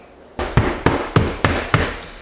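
Knuckles knocking on wood paneling while hunting for studs, five or six sharp, evenly spaced hollow knocks, close and loud, with no talking.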